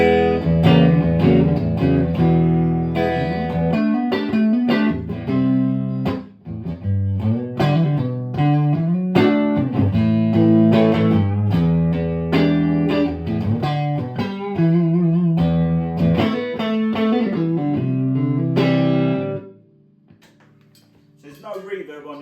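Dry electric guitar on a clean tone with no reverb plays a song intro: a busy run of picked notes and chords for about nineteen seconds, then a quieter ringing tail.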